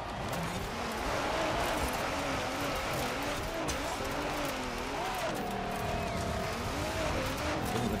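Racing car engine in Forza Horizon 4 on a woodland dirt-race route, loud sustained revving with pitch rising and falling through gear changes, tires squealing now and then, with someone talking over it.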